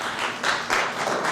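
Lounge audience claps in a short burst of applause, a dense patter of many hands with a few louder swells, moderately close and without talk.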